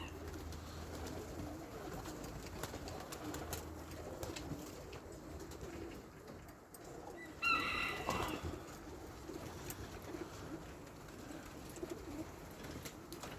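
Soft pigeon cooing in the distance against faint outdoor background noise, with a brief flutter of wings partway through.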